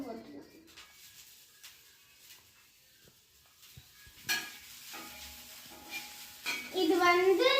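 Onions drop into hot oil in a pan and start to fry, a soft sizzle and stirring scrapes rising after a quiet start, with a voice speaking over the cooking toward the end.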